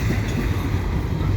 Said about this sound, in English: I just caught this CP train headed west.